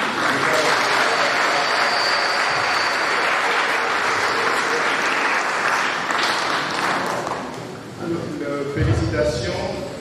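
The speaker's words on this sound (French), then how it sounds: "les acclamations de la foule de Sénégal" A crowd at an outdoor peace mass celebrated by African bishops in Senegal claps and cheers, a broad roar of applause that thins toward the end as voices and other sounds come forward.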